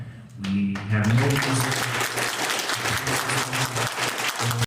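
An audience at a political rally bursts into sustained, dense clapping that swells and continues steadily, with a voice briefly audible at the start.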